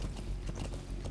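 A horse's hooves trot in a steady, rapid clip-clop rhythm in Metal Gear Solid V: The Phantom Pain, loud and close over a dense background.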